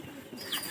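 A domestic pigeon coos among a flock kept by a pigeon keeper, with soft low calls close by and a brief higher chirp near the end.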